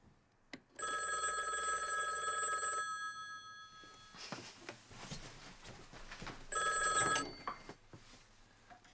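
A landline telephone bell rings indoors in a period spy drama, two loud sustained bursts of ringing separated by a quiet gap with faint room sounds.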